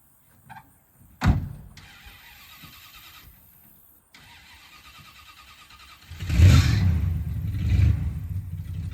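A flooded 1979 Dodge D200 truck engine cranks in short bursts with a sharp mechanical onset, then settles into a louder, rougher rumbling attempt near the end, heard close and without talk.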